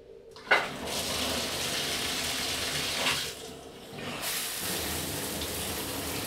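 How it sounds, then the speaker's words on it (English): Water from a shower pours steadily in a hotel bathroom, a broad continuous hiss with a sharp splash near the start and a brief shift in the spray midway, close and fairly loud. "It is time to shower."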